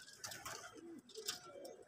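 High flyer pigeons coo in a loft, soft throaty rolling calls repeating in short bursts at close range, with faint rustling and no talk.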